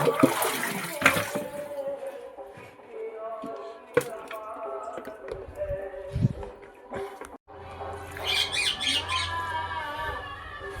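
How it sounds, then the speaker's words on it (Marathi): Water gushes and splashes as plants are watered at a village home during a wedding, with busy household sounds, bird squawks and faint wedding music around it. "तर आता थोडंसं पाणी देऊन देतो झाडाला"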